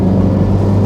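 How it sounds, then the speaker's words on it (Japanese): Engine of a Honda CR-Z Mugen RZ in sport mode, a brief steady low droning hum, close and loud from inside the car, with no voices. "このエンジン音"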